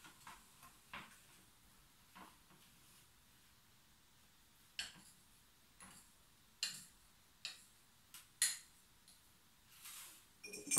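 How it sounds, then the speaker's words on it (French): A spoon stirring a flour-and-water mixture with baking soda in drinking glasses, giving sparse, light clinks and taps against the glass at irregular intervals in an otherwise quiet room, with no talking. "Et je mélange à nouveau."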